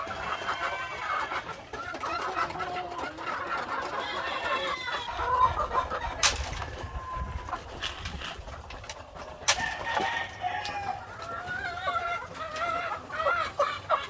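Backyard chickens cluck and murmur steadily while feeding on corn, several birds close by with soft repeated calls and a few sharp pecking clicks, no talking.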